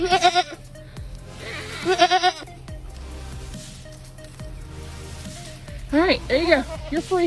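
Goats bleat in loud, wavering bursts near the start and again toward the end, with people talking around and between the calls.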